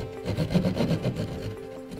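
A drywall saw cuts a hole for a residential cut-in light switch box, giving a dense, rough rasping stroke that holds steady for about two seconds, close by and with no talking.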